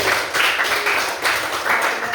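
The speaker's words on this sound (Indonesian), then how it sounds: "Kita beri tepuk tangan." Children in a classroom clap together in rhythmic bursts, a fairly loud patterned applause with short pauses between rounds.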